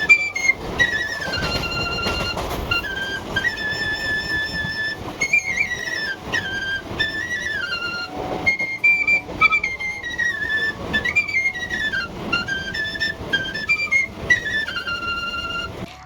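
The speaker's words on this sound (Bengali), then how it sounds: "তোমরাও একটু শোনো কাকাকে এই সুন্দর বাঁশি বাজাচ্ছে।" A man plays a bamboo flute aboard a moving local train near Dum Dum station, bright wavering melodic phrases rising and falling over the rattle and rumble of the carriage.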